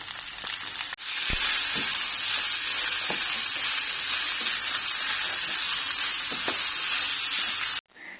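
Nasi goreng sizzles and fries in a pan, a dense steady crackle with a few sharp ticks from stirring, alone and loud for most of the stretch before cutting off abruptly near the end.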